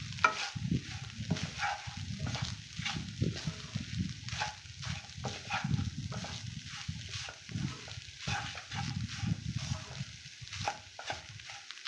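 Sura puttu, flaked shark cooked with salt, being stirred in a pan, with a repeated scraping and rustling rhythm of the spatula and soft sizzling, close and moderately loud, no talking.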